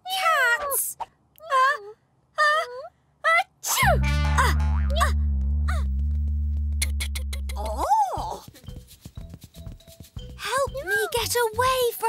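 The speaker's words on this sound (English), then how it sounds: "The cat is making me sneeze! I'm allergic to cats!" Short meows come in bursts among voices, interrupted by a long low sustained tone, then more quick meow-like cries toward the end.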